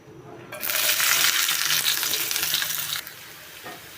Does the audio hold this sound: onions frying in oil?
yes